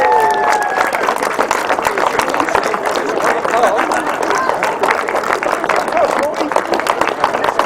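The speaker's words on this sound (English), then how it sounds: "So the long distance award, big round of applause please, Steiners London, Dennis Smith." Crowd applause at an outdoor grasstrack sidecar racing meeting during an award presentation, a steady dense wash of clapping with some cheering and babble running throughout.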